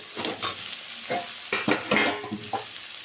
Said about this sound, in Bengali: অল্প জল দিয়ে দিলাম বন্ধুরা, এখন আমি ঢেকে দেব।